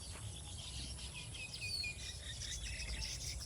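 Baya weavers chirping around their woven nests in a date palm, a dense steady twitter of small high calls at moderate distance, with a faint insect-like hiss beneath and no talk.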